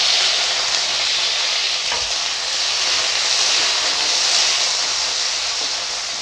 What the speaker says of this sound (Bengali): শিমগুলো ভেজে নেব,